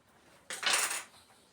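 Onions being stirred in a pan, heard as a single brief scrape and sizzling rustle of utensil against metal, close and fairly quiet, with no talking.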